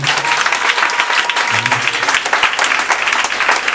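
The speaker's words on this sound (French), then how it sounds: "Acclamez le Seigneur pour moi." A church congregation applauds for the Lord during a French-language service: dense, steady clapping from many hands fills the whole stretch, with a low voice or murmur faintly underneath.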